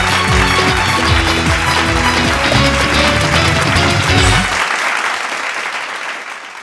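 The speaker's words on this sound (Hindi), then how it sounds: "चली अगला टीम बटे जोरदार ताली के साथ स्वागत कर लिया चंदावली के मतवाले टीम के।" Loud studio audience applause welcomes a team on a Bhojpuri antakshari TV show, a dense burst of clapping under music that cuts off and fades after about four seconds.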